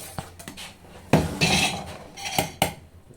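A metal spoon scraping and clinking against a pot while stirring milk with other ingredients, a handful of sharp irregular knocks and scrapes close by.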